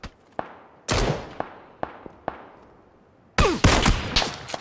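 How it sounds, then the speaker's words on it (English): Video game gunfire: several sharp, isolated shots ring out at uneven intervals, each with a short decaying tail, then a louder, denser cluster of rapid shots near the end, with no voices. "someone else is shooting at me."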